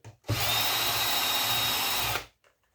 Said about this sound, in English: So take these 2 screws out here.